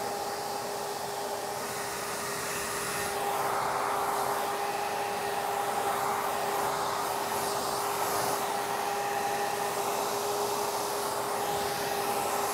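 A blow dryer runs steadily, drying hair straight, its whine and rushing airflow loud and continuous, swelling slightly as it moves closer partway through, with no talking.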